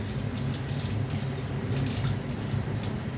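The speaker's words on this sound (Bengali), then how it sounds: "বেগুনগুলো ভালো করে ধুয়ে নিচ্ছি, তারপর হলুদ মরিচ দিয়ে মাখিয়ে নিব।" Kitchen tap water runs in a steady, close rush while eggplants are washed under it, with no voices.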